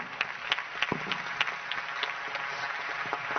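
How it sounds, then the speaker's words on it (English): Scattered clapping from a forum audience, a steady patter of many hands with sharper individual claps popping out, moderately distant. "May I get a big round of applause for Nelly Faso, Alessandro Melle, Luca Sahil"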